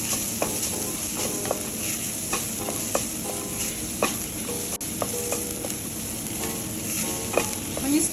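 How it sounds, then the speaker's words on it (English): Garlic fries in a pan with a steady close sizzle, broken by repeated scraping stirs at a fairly regular pace, and no one talking. "When you start to smell the garlic, it means it's done."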